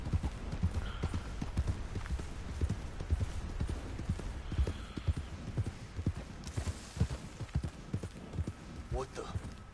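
Hoofbeats of a large horse in the video game Red Dead Online: a steady, moderately close clip-clop rhythm that runs throughout, with speech in the background.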